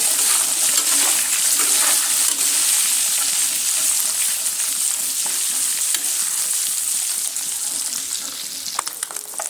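Eggs frying in oil with turmeric and chilli powder: a loud, continuous close sizzle and crackle, steady throughout and easing slightly toward the end, with a few faint utensil clicks and no talking.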